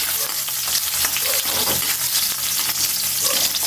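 Garlic and golden-browned ginger sizzle steadily in a pan for adobong pusit, with a bright continuous hiss broken by soft scraping stirs, loud and close with no talking.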